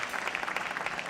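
A church congregation bursts into dense, even applause for the pastor; the clapping stays loud and steady throughout the brief moment, with a faint murmur of voices underneath.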